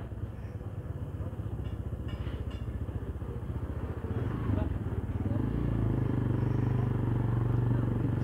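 A motorcycle engine near the Susunia fair, a steady close chugging idle that grows louder and fuller midway, as if revving or pulling away.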